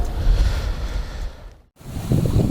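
Strong wind over a lake, heavy buffeting rush close to the microphone, cutting out briefly to near silence before gusting back in.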